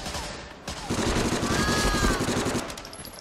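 Sustained automatic gunfire in the Medal of Honor Frontline video game: a fast, loud, continuous rattle of shots with ringing tones over it, tapering toward the end.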